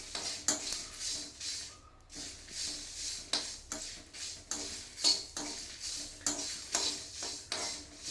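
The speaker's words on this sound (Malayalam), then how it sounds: "ഉലുവ ചുവന്ന കളറാവോളം വറുത്ത് എടുക്കണം" Fenugreek seeds and five or six dried red chillies roast in a pan for mango pickle, stirred with repeated scraping and clinking of a utensil against the metal in an uneven rhythm, close and moderately loud.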